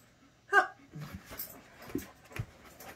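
A dog gives a short high whimper while begging for snacks, then pants and shuffles nearby, with soft movement noises and no speech.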